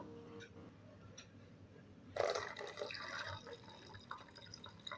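Water is poured into a container of raw mango paste for a sweet-and-sour sherbet, a sudden close splashing fill that starts midway and continues with trickling and drips.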